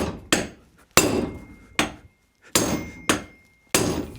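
Hard hammer blows wallop a stuck bearing in a rear wheel hub on an MEV Exocet: seven loud metallic strikes at an uneven pace, each ringing and decaying briefly before the next, no speech.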